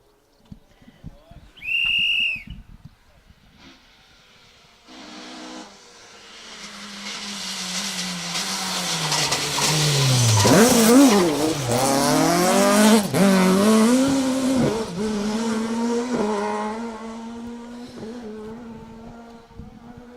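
A 2.5 litre Ford Escort rally car on a Manx Rally 2023 stage approaches a hairpin. Its engine swells loudly, the pitch drops through the slow turn after a handbrake flick, then revs climb again as the car pulls away. A brief tone sounds first.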